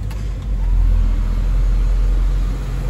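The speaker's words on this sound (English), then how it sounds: "So I turn on the air conditioning, it will lug the engine down, but then the fan will kick on full and it won't lug it down further." A Ford engine fitted with an FRPP control pack, idling as the air conditioning switches on, a loud close low rumble that sags briefly near the start and then holds steady and heavy.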